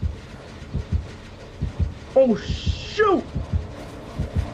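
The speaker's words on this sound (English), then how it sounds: "I can still hear the heartbeat" Rhythmic low heartbeat thumps from the Dead by Daylight horror game pulse steadily underneath, roughly two per second, while players talk and exclaim over it and a brief whooshing game effect sweeps through the middle.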